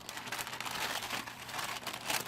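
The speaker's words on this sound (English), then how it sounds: "what I do to make it easier for the parchment to lay is I cut my corners" Parchment paper being cut and folded into a baking pan, a steady close crinkling and rustling with no talk.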